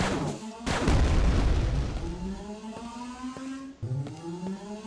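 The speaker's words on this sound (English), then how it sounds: "I'm gonna break the fan." A fan smashed apart in Quake 2: one loud booming crash, then a ringing metallic tone that fades and holds steady over the next few seconds, with a second smaller thud near the end.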